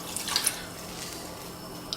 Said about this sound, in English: 60 millilitres of just water. So we're going to add this to the saucepan over here.